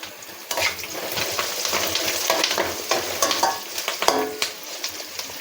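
Masala frying with softened onions in a pan sizzles loudly and up close, while a spatula scrapes and clacks in quick irregular strokes throughout, no speech.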